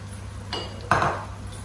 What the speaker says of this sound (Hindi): बस 1 से 2 मिनट के लिए अच्छे तरीके से मिक्स कर लेंगे